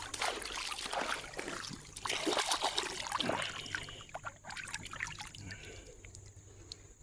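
Creek water trickling and splashing as a piece of petrified wood is rinsed by hand, with irregular splashes up front that settle into a quieter, faint trickle.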